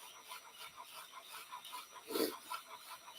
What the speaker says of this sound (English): I'm also moving the file so it's not just sitting in one spot.